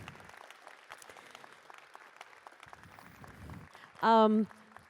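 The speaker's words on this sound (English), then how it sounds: "So can we give a round of applause to our award winners of the Societal Impact Award?" Audience applause for winners of a Societal Impact Award fills a hall with steady clapping, and a voice speaks over it before a brief tonal sound near the end.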